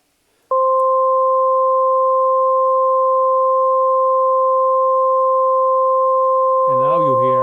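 Steady pure sine tone from an STS Sine VCO module in VCV Rack, switching on abruptly and holding loud and unwavering, then giving way near the end to a wobbling, modulated buzz.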